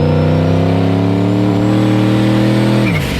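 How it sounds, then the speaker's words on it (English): Squatted truck driving fast, a loud, steady engine drone with layered harmonic hum that holds level, then dips and shifts in pitch near the end as the engine eases off. "I've never ridden in the squatter truck this fast in my life."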